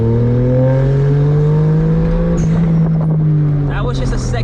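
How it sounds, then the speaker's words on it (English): A 1991 Suzuki Cappuccino kei car pulls hard in second gear up to about 60 km/h, its small engine note rising steadily and loud from inside the cabin before the gear change, with a voice speaking over the last part. "that was just a second gear pull and it threw me back"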